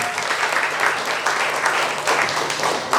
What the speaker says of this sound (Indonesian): Tepuk tangan untuk senior PMII.